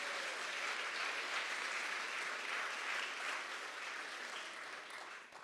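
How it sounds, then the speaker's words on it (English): Dense, sustained audience applause at an athletics awards ceremony, a steady roar of many hands that holds evenly for several seconds before easing off slightly at the end. "let's go ahead and just give everybody once again a round of applause for those things"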